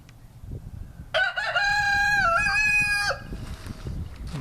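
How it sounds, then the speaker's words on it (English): A rooster crows once, loud and close, inside a chicken coop holding several roosters, with soft clucking and low barnyard rumble before and after the call. "There's our main chicken coop herd."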